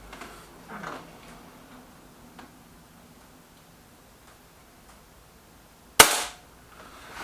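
A single sharp air pistol shot, an Artemis P15 or EB Arms XV2 fired at a target, cracks loudly and briefly near the end after several seconds of quiet room ambience.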